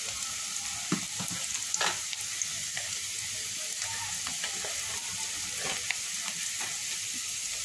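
Turmeric, salt and chili powder stirred into oil in a frying pan for a chickpea dal and chicken dish: a steady close sizzle broken by a few sharp spoon scrapes, with no talking.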